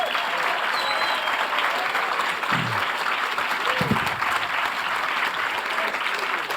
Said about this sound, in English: And as he enters, give him a round of applause.